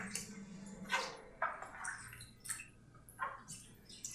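Dyed fabric from an indigo vat being rinsed in a tub of water: a series of soft splashes and sloshes, each a short burst with gentle drips between, close by and moderately quiet.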